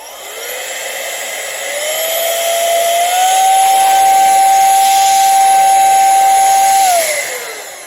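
LANNIU 2-in-1 compressed air duster and vacuum with a 110000 RPM motor: a loud, airy high-pitched whine that ramps up, holds a steady piercing tone over broadband hiss for several seconds, then winds down.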